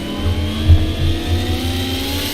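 Race car engine in a racing video game, droning loudly at steady high revs as it gets back on the power and accelerates, with a few low thuds underneath and no talking.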